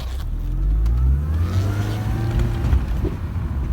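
A 2004 MINI Cooper S with a John Cooper Works tuning kit hums and rises in pitch as it drives along, with occasional bumps and rattles over uneven ground.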